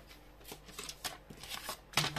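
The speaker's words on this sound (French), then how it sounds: "Alors, la languette, on va couper déjà sur 1 cm." A small tab of paper card is cut by hand in a few short, crisp snips with light paper rustling, faint and close, with a sharper cut at the end.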